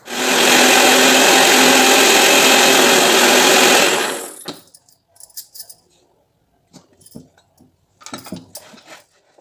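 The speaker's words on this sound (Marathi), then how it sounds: "मिक्सरमध्ये आपली सुंदर अशी लोणी निघते" A mixer grinder churning cream into butter roars loudly and steadily for about four seconds, then stops abruptly, leaving scattered faint knocks and clatter of the jar being handled.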